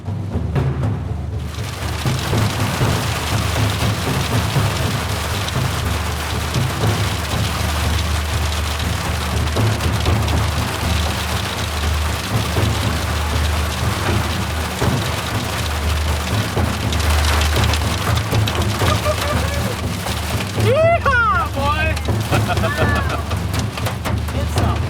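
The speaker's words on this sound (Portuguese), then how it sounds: "atravessamos aí um núcleo de forte precipitação e algum granizo" Loud, dense rain with some hail drumming steadily on a surface during a storm in Tornado Alley, a constant heavy downpour with a brief muffled voice near the end.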